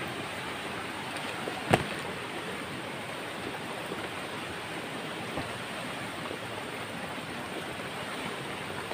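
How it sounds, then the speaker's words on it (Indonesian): Light drizzle falls outdoors near a flowing river, a faint, steady, even hiss with one brief tap partway through and no voices. "cuaca gerimis"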